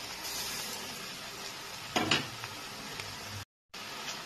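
Onions fry in a pan with salt and turmeric, giving a steady close sizzle and hiss, with a brief stirring clatter midway and a short dropout near the end.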